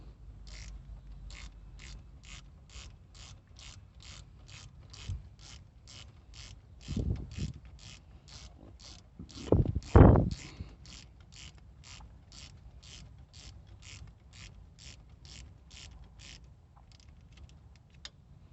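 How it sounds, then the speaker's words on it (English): A 7mm hex ratchet tightens brake caliper bolts on a Chrysler Town and Country, giving a long even series of close, crisp clicks, interrupted by a couple of louder knocks and clunks midway. "you want to get your 7mm hex and go to town on it"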